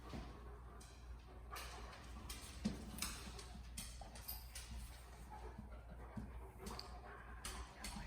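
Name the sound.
dog panting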